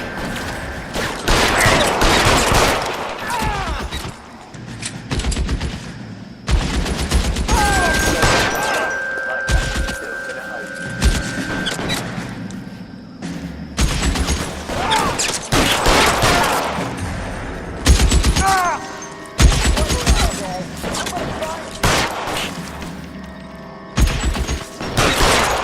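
Gunfire in an L.A. Noire shootout: repeated bursts of shots and loud impacts fill the mix almost throughout, with shouted voices breaking in over the firing.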